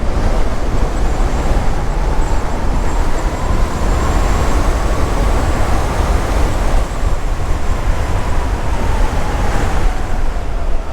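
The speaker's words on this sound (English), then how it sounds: "you definitely hear a lot more wind noise when you're going faster than you know, 25 miles an hour" Electric motorcycle ridden at speed, steady loud roaring wind rush buffeting the microphone throughout, with a faint rising and falling whine beneath, no talk.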